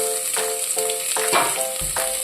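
Mustard seeds, curry leaves, cumin and chopped onion tempering in hot oil, crackling and sizzling close up with a few sharp pops and light stirring scrapes.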